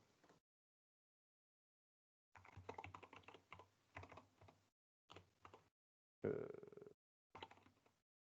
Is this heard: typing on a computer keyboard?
yes